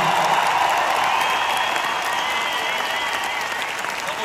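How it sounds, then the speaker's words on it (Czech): Dense, sustained applause from a large concert crowd in the O2 Arena in Prague at a 25th anniversary show, a steady loud wash of clapping with faint cheering mixed in. "možná byste jich za to mohli zatleskat"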